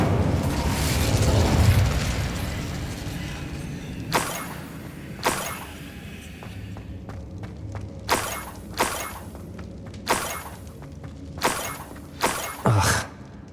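Fire spell casting in Hogwarts Legacy: a loud roaring burst at the start followed by a series of sharp cracking impacts and bursts spaced irregularly over several seconds, with a low ambient rumble beneath.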